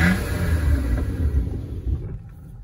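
A Nissan Altima Coupe with bad rear brakes pulls away, its exhaust giving a loud, steady low rumble that builds slightly before fading near the end.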